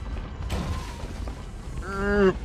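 Furniture shoved across a floor in the video game Call of Cthulhu: Dark Corners of the Earth, a faint low scrape followed by a rising, groaning wooden creak near the end.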